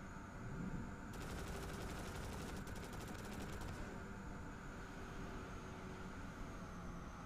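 Rapid bursts of mechanical cannon fire from the racing video game BallisticNG rattle in a steady stream for a few seconds over a constant engine-like drone, then stop while the drone continues.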